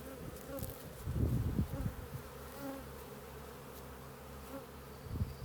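A dense, steady buzzing of many honeybees around a hive frame fills the air up close, with occasional louder passes and soft handling noises.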